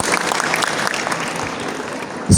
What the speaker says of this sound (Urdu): میں چاہوں گی ایک بار بھرپور تالیاں ان کے لیے جو پورے پاکستان سے یہاں پر موجود ہیں